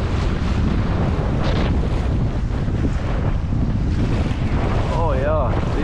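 Storm waves and strong wind batter a fishing kayak at sea after a cold front, a constant roaring wash of surf and heavy wind buffeting the microphone throughout, with a brief whistling tone near the end.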